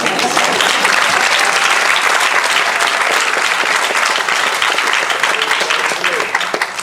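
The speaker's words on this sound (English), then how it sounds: "You can clap for that" A large crowd claps loudly at a 2022 graduation ceremony, a dense and continuous round of applause lasting several seconds that tapers off slightly at the close.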